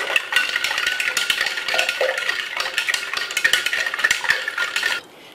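A spoon clinks and scrapes rapidly against a glass or jug while stirring plum sharbat, a loud, busy rhythmic rattle that stops abruptly near the end; no talking.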